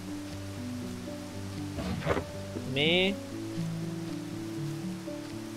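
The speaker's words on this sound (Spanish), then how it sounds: "Y empieza a llover otra vez." Rain falls steadily in the video game Crystal Project, a soft hiss beneath tonal game music, with someone talking and a short electronic chirp partway through.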